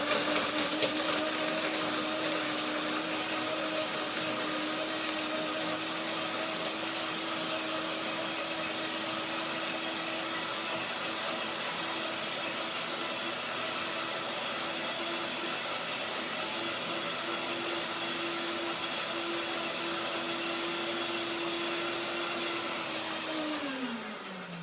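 Walnut, pear, banana and ginger being blended: one blender runs with a steady high whine for about twenty-four seconds, fairly loud and alone, then winds down at the end.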